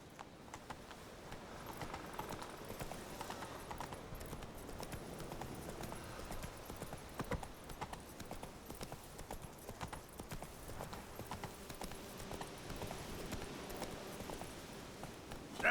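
Roach the horse from The Witcher 3 trots along with a steady, moderately loud clip-clop of hooves over a dense game soundscape, with no talk.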